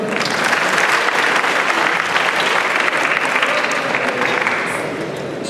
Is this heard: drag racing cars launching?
no